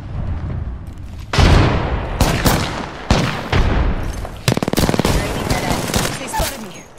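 Heavy automatic gunfire in an Apex Legends firefight, loud bursts and rapid rattling volleys striking close around the player, with booming impacts and a dense fast burst near the middle.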